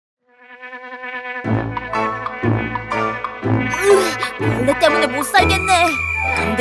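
A children's song about a housefly, with a sung buzzing imitation over a bouncy musical backing; the voice repeats the buzz in short phrases that grow louder as the tune goes on.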